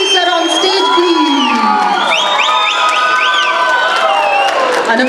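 A crowd at a film song-launch press event cheers and whoops loudly to welcome a music director onto the stage, with a continuous dense roar, overlapping shouts and rising calls.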